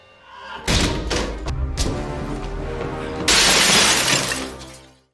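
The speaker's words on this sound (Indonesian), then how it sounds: "Sementara Tom berusaha sekuat tenaga memecahkan kaca pada kantor tersebut." An office glass window is being smashed, several heavy thumping blows and shattering bursts in quick succession, loud and close, ending in a sustained crash of breaking glass.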